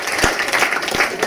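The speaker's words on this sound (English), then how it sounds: "So please give him a round of applause just for that," Steady applause from an audience at an MMA pre-fight press conference, a dense patter of many hands clapping at a fairly loud level throughout.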